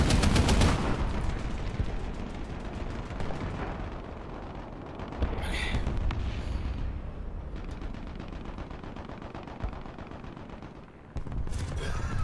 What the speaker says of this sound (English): Just fire some rounds in the general direction.